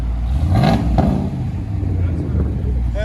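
A RAM 2500 Power Wagon with a 6.4L HEMI V8 and modified exhaust revs hard in a short, loud, deep burst that rises and falls, then settles to a rumbling idle as people talk nearby.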